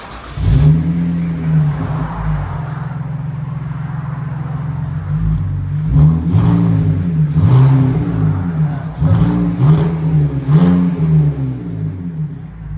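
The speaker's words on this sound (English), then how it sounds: "2005 Z4 muffler delete with dual tips right there" A 2005 BMW Z4 with a muffler delete and dual tips idles then revs repeatedly, a loud close exhaust drone climbing and falling in a series of blips.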